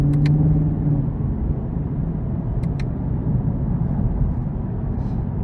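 A 2023 Chevrolet Camaro LT1 convertible with a 10-speed automatic, driven in sport mode, gives a steady, close, loud engine growl and rumble throughout, with no talking.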